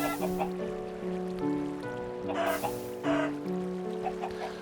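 Chickens clucking on a Minecraft egg farm, several game-style clucks popping up over a steady tonal background with a couple of louder bursts, fairly close.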